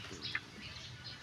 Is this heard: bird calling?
yes